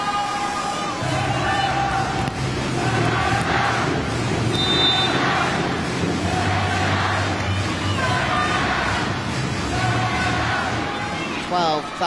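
Thousands of Japanese fans beating handheld clappers at a USA versus Japan women's volleyball match at the 2018 World Championship; a loud, dense crowd roar with rhythmic clatter and shouting, with a commentator talking over it.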